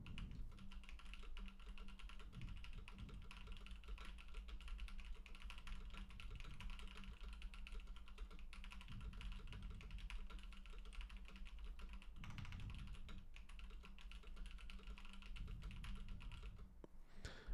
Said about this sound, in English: now I'm going to do a little typing test on my mechanical keyboard